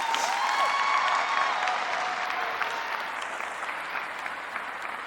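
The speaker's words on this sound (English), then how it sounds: "let's give that a round of applause" Graduation audience applauding the top scholars of the 2022 class, a dense sustained round of clapping from a large crowd with a few faint cheers, gradually easing off.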